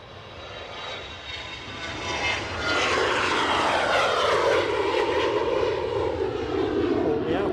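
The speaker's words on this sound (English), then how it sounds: "New plane going over." A plane flies over Edinburgh Airport, its broad engine roar swelling after a few seconds and holding loud and steady with a sweeping tonal whine as it passes overhead, with faint talk underneath.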